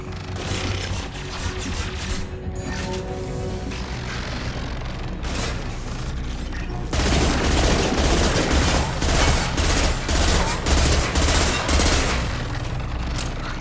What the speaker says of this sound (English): Hey, Tally, could you shoot?